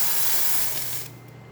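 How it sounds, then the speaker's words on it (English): A Vibiemme espresso machine's steam wand, freshly tuned up, blasts a loud, steady spray of steam for about a second before cutting off, leaving a softer hiss and a low hum behind. "first the steam, and as you can see, steam is powerful, working extremely well"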